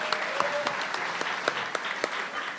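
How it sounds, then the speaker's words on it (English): An awards ceremony crowd applauds in a continuous wash of clapping, with a few sharper individual claps standing out near the front and a faint whistle or cheer mixed in. "Round of applause to all of you."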